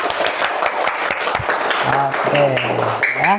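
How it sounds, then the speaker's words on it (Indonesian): Children in a classroom clap their hands along to a clapping song, a run of sharp claps at the start giving way to singing and talking voices over scattered claps. "Tepuk tangan semuanya."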